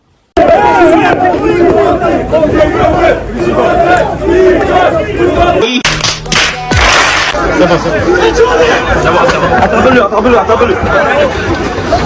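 Algerian football fans crowd outside their national team's hotel, shouting and chanting loudly and without letup, with a few sharp bangs partway through and voices overlapping throughout.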